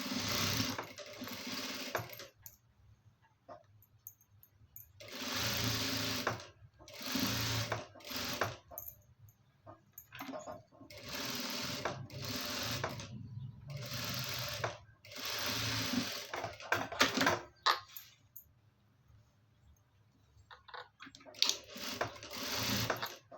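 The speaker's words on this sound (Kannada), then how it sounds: "ಈ ಸ್ಲೀವ್ಗೂ ಬಾರ್ಡರ್ ಹಾಕ್ಕೊಳ್ಳೋಣ." Sewing machine stitching a border onto a garment sleeve, running in repeated bursts of a few seconds with short pauses between, steady mechanical whir at moderate loudness, no talk.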